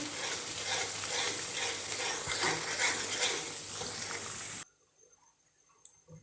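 Spices with coriander powder and fennel stirred in a pan for prawn curry, a busy frying sizzle with spoon scrapes that runs steadily for several seconds, then stops abruptly, leaving near silence with faint clicks.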